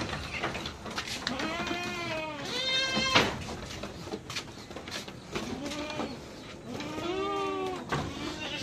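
Several goats bleat in wavering, nasal cries, some overlapping, against a noisy background with occasional knocks.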